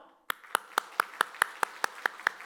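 A church congregation claps in unison to welcome a flag into a worship service, about a dozen crisp, evenly spaced claps in a steady rhythm after a brief quiet start, with no talking over them.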